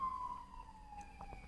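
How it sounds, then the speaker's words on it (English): Emergency vehicle sirens wailing outside, a faint steady tone sliding slowly downward in the distance. "Can y'all hear the sirens?"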